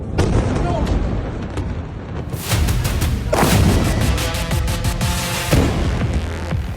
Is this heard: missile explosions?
yes